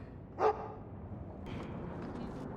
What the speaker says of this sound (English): That's a good dog.